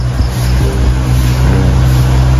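A heavy garbage truck engine rumbles loud and close, a steady low drone that swells slightly as it passes, with no voices.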